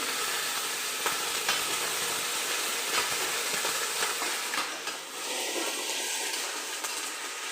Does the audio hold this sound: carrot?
yes